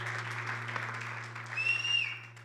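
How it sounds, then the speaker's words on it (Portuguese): Audience applause welcoming a pastor at an afternoon church gathering; a steady, fairly soft wash of clapping that swells slightly toward the end. "dá uma salva de palmas para a gente receber"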